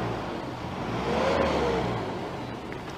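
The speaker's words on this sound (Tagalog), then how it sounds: "Kahit bombahin ng driver nitong modern jeep yung gasolina" A modern jeep with a Euro 4 engine revs steadily, a continuous mid-pitched engine drone swelling slightly in the middle, close by with no talk.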